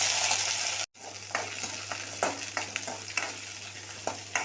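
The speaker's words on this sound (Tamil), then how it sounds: "கடுகு சீரகு சேர்த்துக்கலாம் வெந்தயம் கருவேப்பிலை இதோட பூண்டு வெங்க வெங்காயத்தையும் சேர்த்துக்கலாம்" Mustard seeds, cumin, fenugreek, curry leaves, garlic and onion sizzling in hot oil for appalam kulambu, a steady close crackle after a brief break, with scattered spoon scrapes and small pops throughout and no voices.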